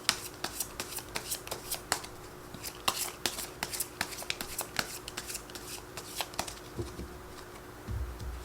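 Tarot cards are shuffled by hand during a reading, giving a steady run of crisp, riffling flutters and soft slaps at close range with no talk over them.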